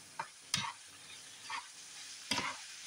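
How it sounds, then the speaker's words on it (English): Ground beef frying with onion in a pan, a soft steady sizzle with a few scraping stirs of a utensil at irregular intervals, fairly faint and close. "I got the meat hamburger here, the beef grilling up here with the onion"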